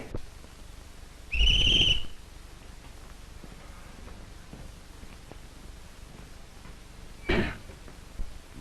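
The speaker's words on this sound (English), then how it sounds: "Give him his whistle." A single shrill whistle blast rings out near the start, then quiet room noise with a brief rustle or thump a few seconds later.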